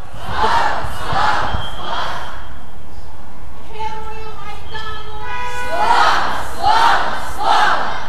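Mourners at a funeral in a church in Stryi chant in unison, three loud rhythmic bursts of massed voices, then a lull with a sustained tonal sound, then three more chants.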